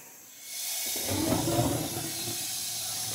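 An old gas furnace burner lights with a soft whoosh that swells into a steady, close roaring hiss of flame and holds there.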